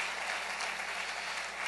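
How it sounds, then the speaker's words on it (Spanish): A church congregation applauds during a worship service, a short, steady, dense burst of many hands clapping together with no talking over it. "Dale fuerte ese aplauso al Rey bendito."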